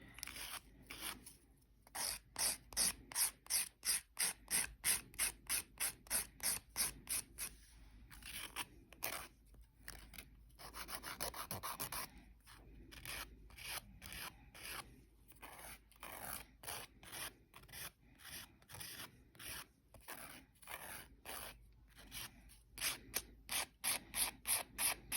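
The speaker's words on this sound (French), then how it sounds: "En fond, limer, c'est la magie. On lâche pas de limer jusqu'à temps qu'on ait ce qu'on veut." Hand filing of hardened resin on a small craft piece with powder, heard as a long run of quick, rasping back-and-forth strokes in steady bursts, close and fairly loud, with no talking.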